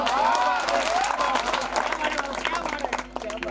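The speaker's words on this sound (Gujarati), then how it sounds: "ताली बजाओ तो ऐसी बजाओ कि इन कलाकारों को जोश आ जाए" Audience clapping at a Shri Ramdev Pir devotional santvani concert in Vadodara: a dense burst of applause that gradually thins out, with a voice speaking over it.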